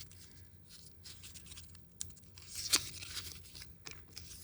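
Sheets of paper are crumpled by hand, a faint, dry crackling and rustling that comes in bursts over several seconds, close up in a quiet room.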